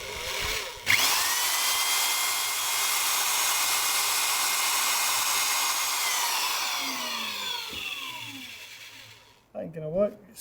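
A power drill bores holes in a length of copper pipe, the bit skating and wandering on the curved surface; a loud, steady whine runs for about eight seconds, then cuts off, and a voice briefly follows.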